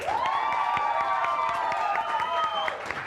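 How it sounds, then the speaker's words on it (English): Audience applause and cheering for a group of champions at a live tabletop game show, a steady dense wash of clapping with a sustained musical tone running over it throughout. "So please, a round of applause for our champions, one by one."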